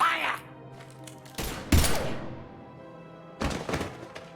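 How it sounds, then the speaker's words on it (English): Gunfire in the Mass Effect 3 video game: a couple of short, heavy bursts of shots and thuds separated by quieter stretches, over a low game soundtrack hum. "Now open fire!"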